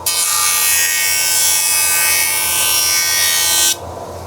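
A wood jointer runs loudly as a small workpiece held down with carpet tape is pushed over it, a steady high whirring cut that drops sharply near the end as the piece clears the blades.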